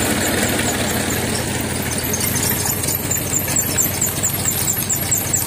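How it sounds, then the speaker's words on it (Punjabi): A tractor engine drives a sugarcane crusher outdoors, a steady, loud mid-range rumble with a rapid, even knocking pulse that holds constant with no pauses. "ਇਹ ਦੇਖੋ ਟਰੈਕਟਰ ਸਟਾਰਟ ਤੇ"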